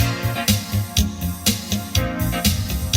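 A minor chord plays on a Roland VA-76 arranger workstation, driving a full accompaniment style with steady drum hits, bass and sustained chords in a loud, even groove, no voice over it.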